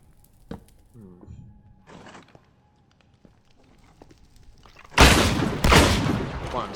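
Gunshots from a pigman's gun in modded Minecraft, a loud burst of two heavy blasts near the end after quieter scattered game sounds.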